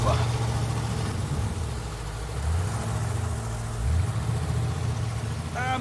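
A small boat engine hums and drones at low pitch, rising and falling slightly, with a person speaking nearby over it.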